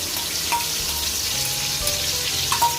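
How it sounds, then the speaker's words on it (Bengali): Cumin seeds and Kashmiri red chili paste sizzle in hot oil with a steady, bright crackle up close. A few sharper spits pop out here and there, and no one speaks. "ফোড়ন দিলাম, জিরে ফোড়ন দিলাম, শুকনো লঙ্কা পেস্ট, এটা হচ্ছে কাশ্মীরি লাল মির্চ।"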